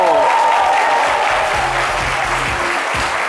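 Studio audience on a midday TV talk show gives a guest a loud, sustained round of applause, dense clapping running throughout with some voices mixed in beneath.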